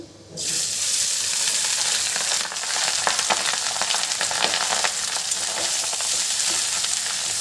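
Cinnamon, cardamom, bay leaf and rice fry in a hot pan for jeera rice, a loud sizzling hiss that starts abruptly and holds steady, with faint stirring clicks, close up and with no talking.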